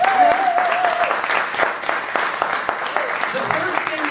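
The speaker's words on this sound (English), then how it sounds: "So give them a big round of applause." Audience applause at a Rotary club gathering, brisk clapping in a room with a voice audible over it and faint musical tones underneath.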